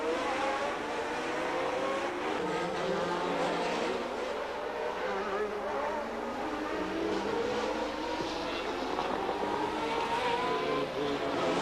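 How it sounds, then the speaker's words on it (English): Formula 1 race car engines from 1982 rev hard through tight hairpins, rising and falling high-pitched howls layered over one another, moderately distant with a busy, sustained crowd-like background. "Expensive engines revved hungrily in the hairpins."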